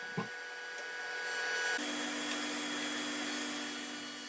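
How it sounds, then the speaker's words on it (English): Table saw ripping a stile from an alder board for a side cupboard, a steady loud whine of blade and wood that swells and holds after a brief knock at the start, with no talk. "And there we are, ripping that second stile out of that piece."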